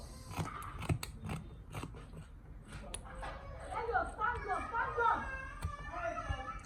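Scissors snip through a paper pattern piece for a pleated sleeve, a run of crisp close cuts with paper rustling as it is turned, while a voice talks over part of it.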